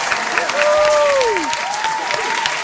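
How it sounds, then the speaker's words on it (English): An audience on a talk show applauds, a steady wash of clapping from many hands that fills the whole moment while a voice speaks over it. "Let's give him a round of applause."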